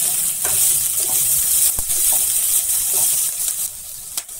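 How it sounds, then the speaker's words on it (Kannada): Grated carrot fries with onions in a pan for soya rice bath, a loud, close sizzle with scattered spoon scrapes and clinks, including one sharp knock near the middle. "ಒಂದು ಕ್ಯಾರೆಟನ್ನು ತುರಿದಿದ್ದೀನಿ. ಈಗ ಅದನ್ನು ಹಾಕಿ ಅದನ್ನು ಫ್ರೈ ಮಾಡೋಣ"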